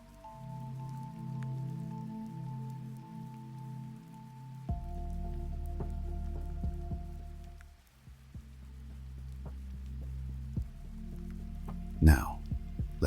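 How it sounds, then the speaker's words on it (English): Soft, gentle rainfall patters faintly and steadily beneath a low, sustained droning tone, with scattered light drip-like ticks and one sharp splash near the end. "let the sound of the rainfall take over"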